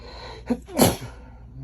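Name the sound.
sneeze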